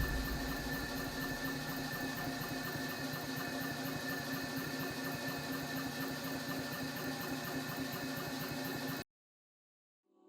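A hot-bulb engine runs steadily, a dense, even mechanical thrum with a faint steady whine on top, loud and close for about nine seconds before cutting off abruptly into silence.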